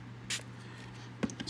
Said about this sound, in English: spray it in the joint